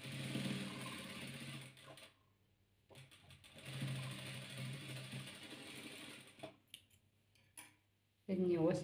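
Sewing machine stitching two patchwork squares together in a close, steady mechanical run, pausing briefly and resuming, with a voice talking at the end.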